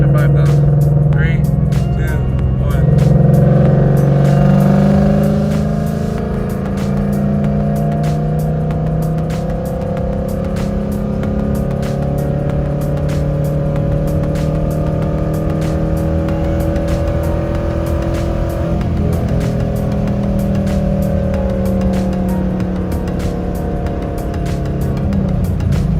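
Ford Mustang GT pulling hard in third gear from about 2,500 to 5,000 rpm, a loud, steady engine roar with rising pitch heard from inside, continuous for the whole stretch with a voice briefly audible at the start.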